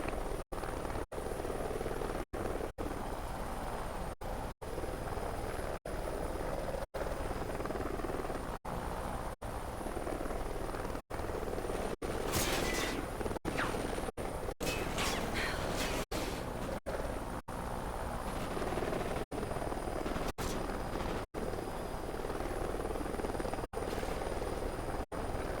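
Helicopter in the video game Call of Duty Ghosts, a scout chopper droning steadily with a loud, continuous rotor roar throughout, briefly swelling in the middle, with no talk.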